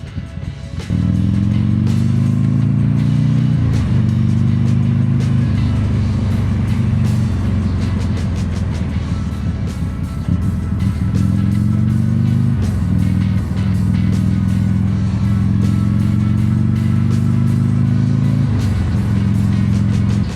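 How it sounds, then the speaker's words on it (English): A motorcycle engine runs loud and close at a bike meet in Ramsgate. It holds a steady throaty drone with several rises and dips in pitch as the rider rolls the throttle on and off, and no one speaks over it. "God, I love riding this bike"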